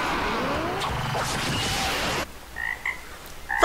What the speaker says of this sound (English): They were a frog this whole time.